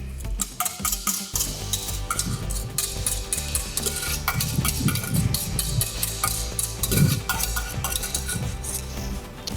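A spoon stirs cheese sauce with roux in a pot, with repeated scraping and clinking against the pan over a soft sizzle, continuous and close with no talking.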